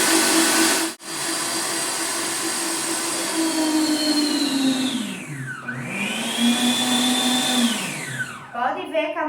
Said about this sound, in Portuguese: Velocidade máxima, tem que bater ovos com açúcar